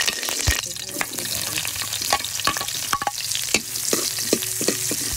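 Garlic sautés in a pan, a steady oil sizzle broken by scraping stir strokes and clinks of a utensil, close and clear with no talk.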